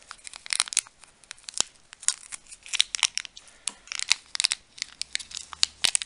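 Someone tears and crinkles open the plastic pouch of an MRE, Menu 24 Southwest beef and black beans, close up with rapid irregular ripping and crackling bursts throughout.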